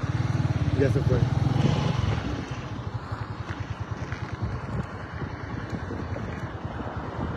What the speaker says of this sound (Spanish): Esa es una moto de alto cilindraje